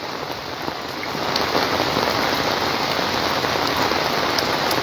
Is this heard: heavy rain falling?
yes